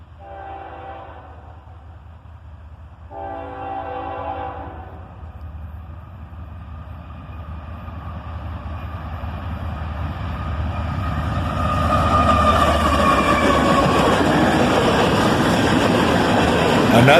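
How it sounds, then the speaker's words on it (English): A CSX southbound manifest freight train led by a single ES44AC locomotive approaches. Two short horn blasts sound early on, and then the rumble of the locomotive and cars builds steadily louder as it nears. No one speaks. "Another southbound manifest train, led by a single ES44 ACH."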